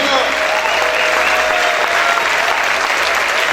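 Loud, continuous applause from a church congregation, a thick even wash of many hands clapping, with voices and crowd murmur running beneath.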